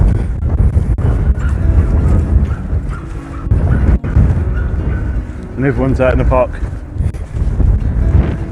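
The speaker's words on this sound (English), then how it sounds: "It's still windy, can you feel the wind? Can you hear the wind?" Wind gusting across Greenwich Park, heavy low rumbling buffets against the microphone in uneven surges while a person talks over it.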